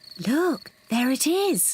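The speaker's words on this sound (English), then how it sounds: "That is the sound of crickets chirping." Cartoon crickets chirp in an animated children's nature scene, with rising-and-falling tonal chirps in short bursts and a brief spoken line heard between them.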